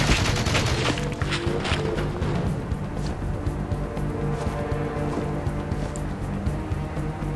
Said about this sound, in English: I'm getting shot from somewhere, but I don't even know where.